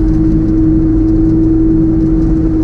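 Supercars race up a hill, their engines making a loud, steady drone with a strong low hum. The sound is close and continuous, and no voices are heard.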